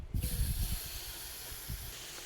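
Pork belly slices laid on a preheated griddle set to low heat give a loud, steady sizzling hiss, with a few soft low thumps at the start as the pieces go down.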